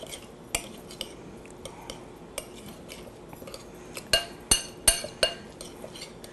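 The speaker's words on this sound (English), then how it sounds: "Let's give that a stir." Metal cutlery scrapes and clinks against a bowl as orange zest is stirred into a mixture, with scattered taps early on and a cluster of sharper, louder clinks near the end, no voices.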